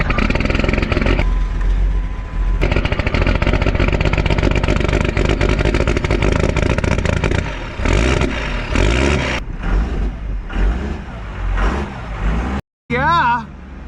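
An old Dodge engine cranks over, catches and settles into a steady loud idle with heavy low rumble for most of the stretch, then a few brief revs and dips near the end.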